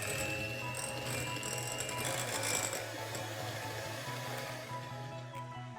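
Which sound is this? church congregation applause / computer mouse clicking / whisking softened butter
whisking softened butter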